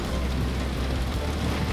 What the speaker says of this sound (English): Aye, the rain is slowing, the storm is blowing through.